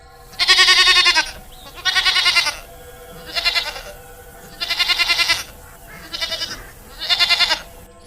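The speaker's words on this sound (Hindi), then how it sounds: "उसकी बकरियां खुद ही घास चर रही होती हैं" Goats grazing outdoors bleat in six long, wavering calls separated by short pauses, loud and near against a faint steady background hum.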